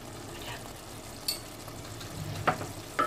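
Coriander powder and garam masala stirred in a pan with oil for an aloo baingan curry, a faint steady sizzle broken by a few sharp scraping clinks of the spoon, close by and quiet.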